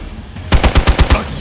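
Gunfire in the video game Marvel's Midnight Suns: a loud, close burst of about six rapid shots in even rhythm following a moment of quiet, with no talking.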